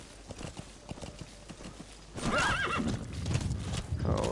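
Video game horse whinnies in a rising, wavering neigh, and hooves clop steadily close by, partly under someone talking.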